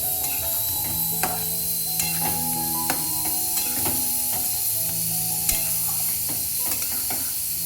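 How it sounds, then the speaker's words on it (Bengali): Poppy seed paste cooks in a pan for aloo posto, giving a steady soft sizzle broken by scraping clicks of stirring, close and even throughout with no talking. "এই যে পোস্ত বাটাটা ঢেলে দিয়েছি।"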